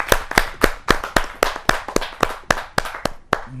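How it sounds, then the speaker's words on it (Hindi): A small audience at a Hindi poetry gathering claps in a loose rhythm, a dozen or so sharp, close hand claps spaced roughly a quarter second apart, with no voices. "जोरदार तालियों के साथ हम उनका स्वागत करें"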